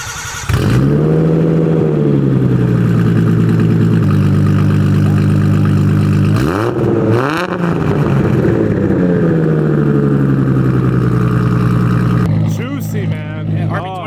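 A Nissan Silvia S15 swapped with an RB26 engine and Tomei exhaust runs loud and close, idling with a deep, steady drone before sharp revs around the middle and a rise in pitch near the end.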